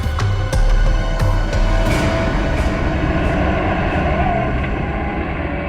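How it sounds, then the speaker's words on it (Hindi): A truck drives through a jungle, giving a loud, steady low rumble with scattered rattling clanks and knocks throughout. "ट्रक की आवाज? ट्रक जंगल में?"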